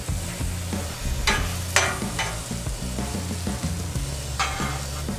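Vegetables dropped onto a hot 36 inch Blackstone griddle crackle into a steady, close sizzle, with a few sharp scrapes and clatters from a spatula over a low background hum.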